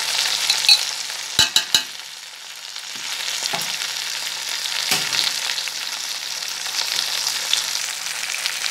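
A spoonful of tomato paste frying in a pan for a quick pasta dish, a soft steady sizzle following a quick burst of three or four sharp utensil clacks, with no voices.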